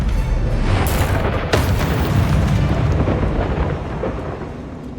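Bombarda explosive spell in Hogwarts Legacy, a loud, deep booming blast with a sharp crack, followed by a rumbling roar that slowly fades.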